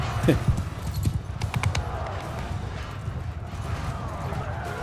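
Horse hooves clatter in a battle in the video game Mount & Blade II Bannerlord, quick clopping steps amid a busy din of fighting, with a voice talking over it.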